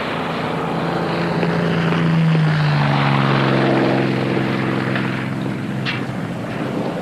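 Propeller engines of a Boeing B-29 bomber drone steadily at close range, a sustained low hum with a rising and falling harmonic whine that swells slightly midway, with no talk over it.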